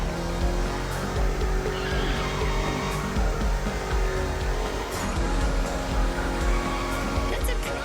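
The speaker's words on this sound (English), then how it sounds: "That's a proper drift." A car drifting in the video game The Crew: Motorfest: a continuous strained engine howl mixed with tire skid and wind noise, loud and close, with occasional talk over it.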